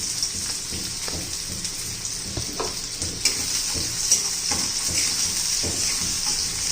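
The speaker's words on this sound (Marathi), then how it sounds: "कांदा आपल्याला परतून घ्यायचा आहे" Chopped onion and garlic sizzling in hot oil in a pan, a steady bright frying hiss with occasional scraping stirs and small clinks, close and continuous with no talk.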